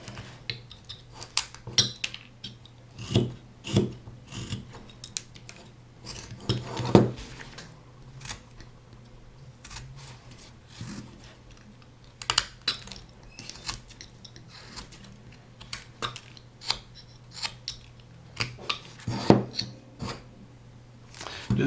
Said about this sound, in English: So that allows us to go back in here with a straight blade knife